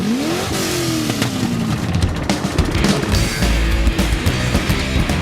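Go-kart engines rev and accelerate at a karting track in Germany, a loud, continuous buzzing drone with rising and falling pitch as karts pass, filling the whole stretch with no talk.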